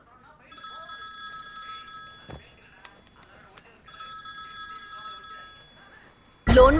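A telephone rings in two long electronic trills separated by a pause, with faint clicks between and a loud burst at the end.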